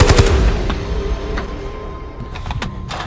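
Gunfire in a zombie movie, a burst of sharp shots at the start and a few more scattered cracks later over a rumbling, busy background.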